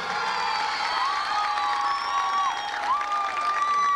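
An audience claps and cheers for the newly chosen winner at a 1998 Miss Tehuitzingo beauty pageant, a steady crowd roar with shrill whistles rising over it.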